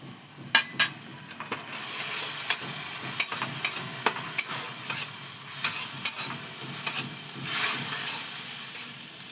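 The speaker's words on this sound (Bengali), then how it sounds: "এটা কষাতে থাকি, কষে গেলে তারপরে মাংসটা এর মধ্যে ঢেলে দেবো।" Spice masala for biryani, tinted with a little food colour, sizzles steadily in a hot pan while a spoon scrapes and clinks against the metal in repeated sharp strokes.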